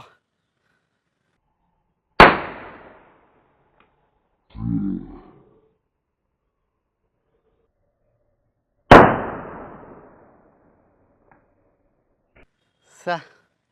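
A homemade thread cracker loaded with roll caps explodes twice, each a sharp, loud bang with a brief decaying tail, several seconds apart, with a short vocal sound and a small click in between.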